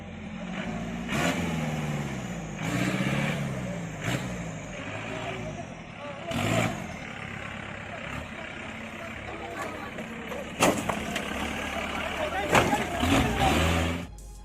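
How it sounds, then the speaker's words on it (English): Heavily loaded dumper truck engine labouring through deep, slippery mud on an African off-road track, a low rumbling drone with repeated surges and bursts of strain, heard under a narrating voice. "A dumper truck was struggling through a dirty, slippery road."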